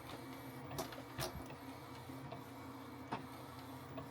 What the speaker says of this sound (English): When it's printing, it should be printing.